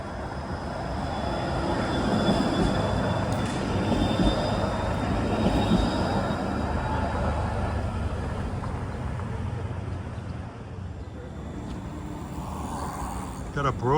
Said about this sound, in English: Got a Broadview bound trolley here going to the subway station at Broadview Avenue